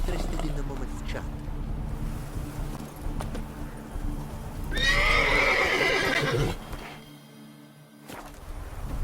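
Roach, a horse in The Witcher 3 video game, gives a loud whinny in the middle, with soft hoof clip-clops and ambient game sound around it while people talk over the scene.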